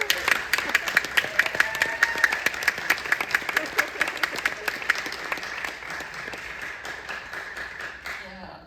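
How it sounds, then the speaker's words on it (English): A theater audience at a film Q&A at Parkway Theater applauds a first-time filmmaker, starting with sharp, rhythmic unison claps that loosen into scattered clapping and cheers before fading out. "I just think we should give him an amazing applause for that."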